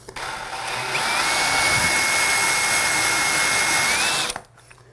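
Power drill fitted with a glass and tile bit grinding into tile during a shower tower install, a loud steady high whine with a gritty edge that holds for about four seconds before winding down.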